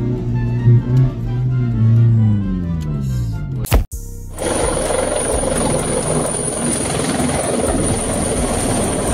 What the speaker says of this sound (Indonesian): ada sebuah helikopter yang sepertinya baru lepas landas